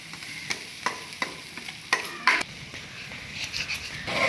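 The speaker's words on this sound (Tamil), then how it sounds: "இஞ்சி போட்டு பேஸ்ட்டை சேர்த்துக்கிறோம்." Ginger garlic paste sizzles in a large wok for Chinese fried rice while a spoon scrapes and stirs it in repeated sharp strokes, close by and without speech.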